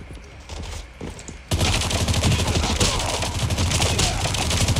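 Rapid automatic gunfire in the Call of Duty Mobile video game, a loud continuous burst of fast shots that jumps in intensity after a softer opening second of firing.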